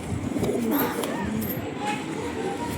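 Soft, low cooing of Madras and Kalanka pigeons repeating close by, with faint chirps and a voice talking over it.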